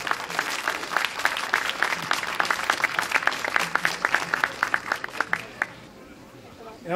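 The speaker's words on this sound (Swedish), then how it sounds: "En stor applåd." An audience at a bluegrass gospel open-stage night applauds to welcome a duo to the stage, with dense, steady clapping and light crowd murmur that thins out and fades near the end.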